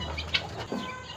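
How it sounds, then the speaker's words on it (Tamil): Chickens at a modern integrated cattle farm with goat and poultry pens, a short burst of faint clucking and squawks against low background noise. "கோழிகள்,"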